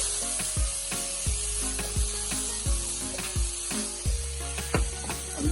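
Vegetables sizzling in a pan for a Jamaican salt mackerel rundown, a soft continuous sizzle with regular thudding and scraping stirring strokes roughly every half second, no talk.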